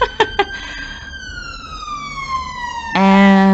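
An ambulance siren passing outside, a loud wailing tone that sweeps downward as it goes by, then a sharp new siren blast at the end, with a few brief thumps at the start.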